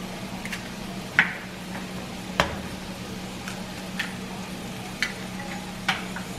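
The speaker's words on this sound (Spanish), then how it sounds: "Ahora ya le vamos a poner los huevos." Eggs frying in a pan with huitlacoche for breakfast, a steady close sizzle broken by several sharp spatula scrapes and taps at uneven intervals.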